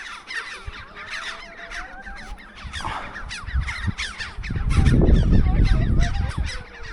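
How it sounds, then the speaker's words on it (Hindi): Birds call repeatedly in Bhutan's Phobjikha Valley, giving many rapid, overlapping honking and squawking cries, like geese or fowl, with rumbling wind or movement noise building toward the end. "तो देखो पंछी."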